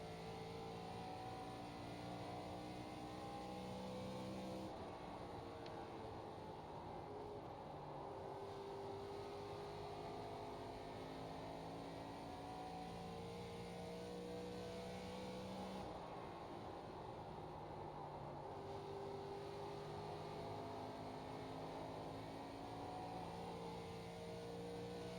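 A simulated ARCA race car engine laps Iowa in iRacing: a steady, loud, droning engine note that rises and falls in pitch through gear changes and corners, continuous for the whole stretch with no talking.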